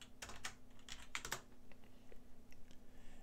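Faint typing on a computer keyboard while renaming an animation in the Godot game engine: a quick scatter of soft key clicks, a small flurry early on, then sparser taps, with no talking.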